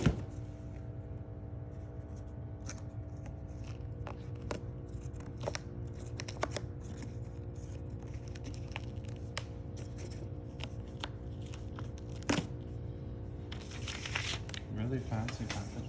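Packaging of an Nvidia RTX 4090 Founders Edition graphics card is torn open and handled, with soft crinkling, scattered tearing and rustling at close range and a brief louder rip near the end.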